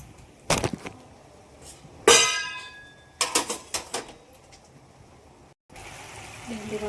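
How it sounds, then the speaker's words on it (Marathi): Utensils being scrubbed and washed, with a few sharp clanks and clatters of pots and running water trickling in bursts, close up and moderately loud, with a soft voice in the background. "तसं आता भांडी घेते घासून मी"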